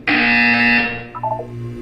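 A loud, harsh buzzer in the video game Portal 2 blares for about a second, then fades into a short descending electronic chime.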